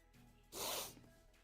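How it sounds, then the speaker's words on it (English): One sudden sneeze, a sharp, breathy burst close to the microphone that lasts about half a second, with quiet background before and after. "I can't stop sneezing."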